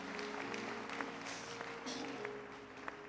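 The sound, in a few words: congregation applauding the Lord in church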